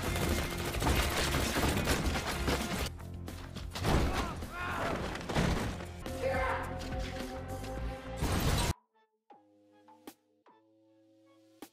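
Gunfire and crashes from an action scene in a film about an agent chasing a counterfeit money fugitive, loud, dense bursts with impacts layered over a score, cutting to a quieter musical passage near the end.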